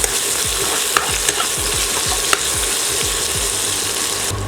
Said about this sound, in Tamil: ரெண்டும் சேர்ந்து கொஞ்சம் நல்லா டிரான்ஸ்பரண்ட்டாக ஃப்ரை ஆக வரைக்கும் நம்ம வெயிட் பண்ணலாம்